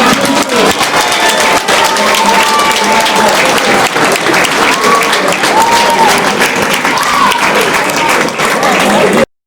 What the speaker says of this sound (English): Everybody, big round of applause to the manager.